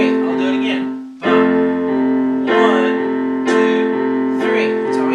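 A piano plays an Irish-style measure, a chord followed by a C struck three times, each note ringing and sustained in a steady pulse, with a voice faintly counting along over the playing.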